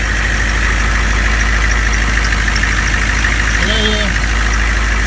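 A 1999 Humvee engine idles steadily with a deep, constant rumble and a faint rhythmic knock, continuing evenly throughout with a brief whistle-like tone near the end.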